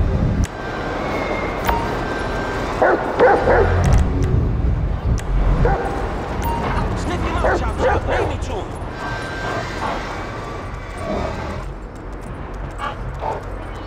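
A dog barks and yips repeatedly in Grand Theft Auto V, with some whimpering, mixed with a voice and game-like background noise.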